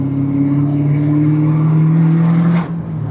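A decatted BMW M5 E39 V8 with an open exhaust drones loudly and steadily up close, then lets out a single sharp pop near the end.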